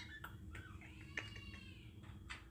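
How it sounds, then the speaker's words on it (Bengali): A cat meows from outside a room, faint and distant, with a couple of drawn-out wavering cries over low background noise. "বাইরে বিড়াল ডাকছে,"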